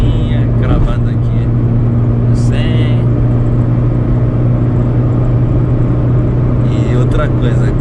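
A 1997 Chevrolet Corsa Wind MPFI with a small aspirated engine pulls uphill in fifth gear on a highway, a steady loud low engine drone with road rumble throughout and brief higher whines.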